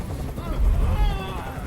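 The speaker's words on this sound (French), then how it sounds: "Je peux plus supporter ce bruit. Fais dégager cet hélicoptère, maintenant." Helicopter hovering overhead in the video game Detroit: Become Human, a steady low rotor rumble that swells in the middle, with faint tonal game sounds layered above.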